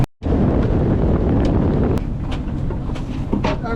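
Strong wind buffets the microphone aboard a sailboat heeling on San Francisco Bay, a loud, continuous low rumbling roar that holds steady throughout.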